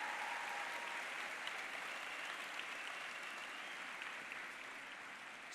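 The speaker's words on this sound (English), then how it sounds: "I think that deserves a big round of applause" Sustained applause from a sizable crowd, a dense patter of many hands clapping evenly for several seconds.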